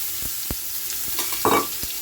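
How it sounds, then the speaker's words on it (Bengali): Grated beetroot and carrot frying in hot olive oil in a pan, a steady soft sizzle broken by a few sharp stirring clatters and a brief louder burst near the end. "এদিকে বিট গাজরটা আমার ভাজা হচ্ছে"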